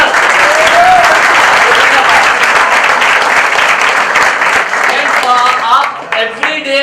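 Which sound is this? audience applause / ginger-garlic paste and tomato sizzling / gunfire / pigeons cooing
audience applause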